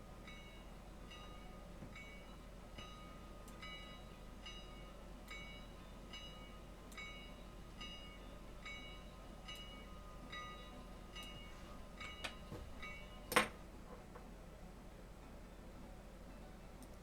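A train in the railroad simulation game Railroader rumbles steadily with faint, regular clanking ticks, then one sharp metallic clank near the end, all at low, even volume with no voices.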